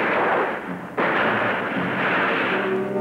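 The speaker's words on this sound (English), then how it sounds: "Enemy riflemen bar the way." Rifle fire from enemy riflemen in the Battle of Guadalcanal: a sharp, loud report cracks out after a moment of rumbling battle noise, followed by sustained dense din.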